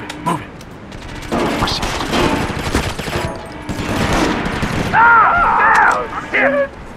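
Rapid sustained gunfire in SOCOM 4, loud and close, with dense automatic bursts and heavy impacts, mixed with battle noise and brief radio-style voices.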